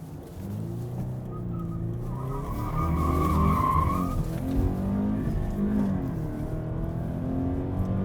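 A yellow 2017 Subaru BRZ Series.Yellow Limited Edition in track mode turns hard and skids, its tires squealing in a sustained tonal screech over a steady engine drone, close and fairly loud.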